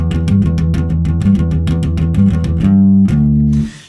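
Solo bass guitar plays the main riff of a song. The close, loud notes come in a driving galloping triplet rhythm and end on a sustained note that cuts off abruptly.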